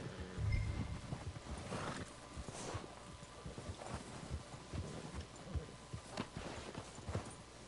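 A horse's hooves clip-clop at a quick trot in Red Dead Redemption 2, fairly faint and uneven, with a brief whinny near the start.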